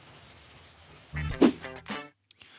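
Clay bar rubbed by hand over the dirty paint of a very grimy car, a short, close, gritty scrubbing rasp that swells briefly and then stops.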